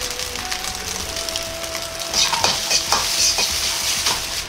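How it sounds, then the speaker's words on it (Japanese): A ladle scrapes and clatters against a Chinese wok as fried rice is tossed and stirred over high heat. Rhythmic metallic scraping and tossing sit over a constant sizzle of frying. "お玉を中央で回すようにして鍋を引いて戻すを繰り返す。"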